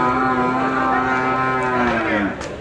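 A Deshal breed bull gives one long, loud, drawn-out moo close by at a cattle market in Sylhet, falling in pitch toward the end.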